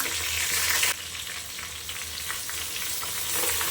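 Onions sautéing in a pan as mint and coriander go in for chicken biryani, a steady close sizzle with a sharp jump in frying hiss near the start and light stirring throughout.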